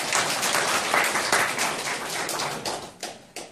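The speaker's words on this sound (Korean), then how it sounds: "찬양대 격려의 박수." Church congregation clapping to encourage a full choir, a brisk burst of many hands that thins toward the end, with a few distinct sharp claps standing out in the final second.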